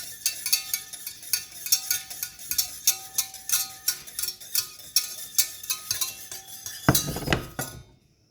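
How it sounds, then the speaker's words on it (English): Whisk clinking rhythmically against a bowl or pot as cacao is stirred into warm milk, a steady run of bright metallic taps close by, ending in a brief louder burst of scraping before stopping. "When the milk is warm enough, I then add the cacao and whisk that together until it all melts."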